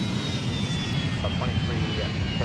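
A Boeing MD-90 jet departs Memphis International Airport with a loud, continuous engine roar and a thin high whine, close and steady throughout.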